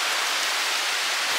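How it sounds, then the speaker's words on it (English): Heavy rain from a thunderstorm pours down on Koh Tao island in Thailand, a dense, loud, unbroken hiss of falling water. "We were just about to buy the ticket and then this rain came."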